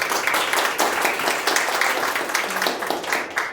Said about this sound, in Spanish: está la doctora Jimena Montes de Oca, para quien pido un aplauso, por favor.